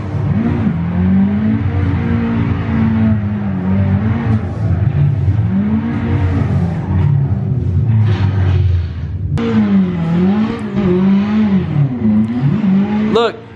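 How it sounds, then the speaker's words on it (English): A car engine hums and revs up and down continuously, mixed with a voice talking over it. "it kind of sounds like my car too"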